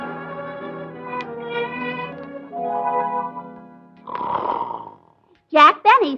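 A man in an old-time radio comedy skit voices loud, deep snoring, drawn-out rumbling snores with nasal whistles, followed by a short exclamation.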